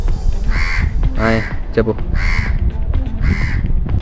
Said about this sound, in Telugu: ఎందుకులా కాకిలా అరుస్తావు? ఓ సారీ, కాకే కదా.